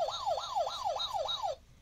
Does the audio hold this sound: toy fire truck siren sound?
yes